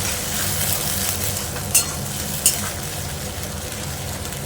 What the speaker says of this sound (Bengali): দিয়ে এবার ভালো করে আমি এটা মিশিয়ে দেব।